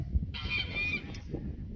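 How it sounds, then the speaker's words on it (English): Geese honking in the distance, one drawn-out nasal honk followed by a brief second call, faint over low outdoor background noise. "I've got some yappy geese over there."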